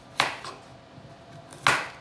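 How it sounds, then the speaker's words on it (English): A knife cuts the thick, tough peel off a swede standing on its flat edge, giving two sharp crisp chops on a board with faint scraping between, close and clear. "cut away from your fingers, getting all that thick, tough Swede peel off"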